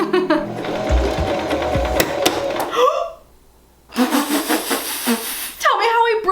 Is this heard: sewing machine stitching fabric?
yes